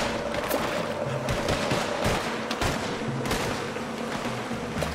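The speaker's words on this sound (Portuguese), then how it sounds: "os caras estão atirando ainda" Dense, sustained gunfire from the video game Red Dead Redemption 2, a loud, continuous crackle of rapid shots and bursts that fills the whole stretch with no talk over it.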